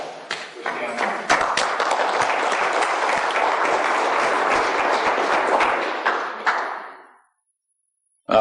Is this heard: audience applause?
yes